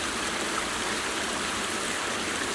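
High water rushes through culverts at a beaver dam, a loud, steady broadband roar of flowing water that continues without pause.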